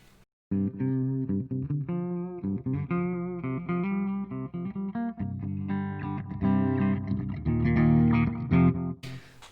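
Electric guitar played through a spring reverb pedal, a run of picked notes and chords ringing out loud and sustained, with a washy, effected tail and a brief pause near the start.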